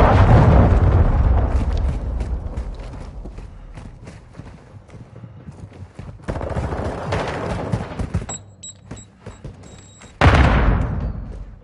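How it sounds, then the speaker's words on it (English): A cruise missile strike in Call of Duty Warzone 2.0 follows scattered loud gunshots and bursts of fire, ending in a sudden heavy booming blast that slowly rolls away. "Hostile cruise missile incoming."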